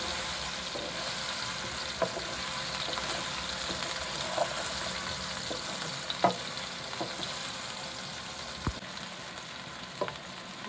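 Potatoes shallow-frying in oil over medium heat in a home kitchen, a steady soft sizzle with occasional sharper pops and light stirring clicks, close and continuous with no talk.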